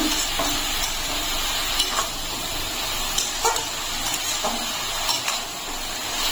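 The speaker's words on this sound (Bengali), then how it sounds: "লবণটা দিয়ে ভালো করে মিশিয়ে নেব।" Salt being stirred into a vegetarian papaya ghonto curry in a pan: a steady hiss of sizzling under soft scraping and clicking of the spoon, continuous and close, with no talk.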